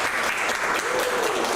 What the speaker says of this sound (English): Please give a round of applause again to Dr.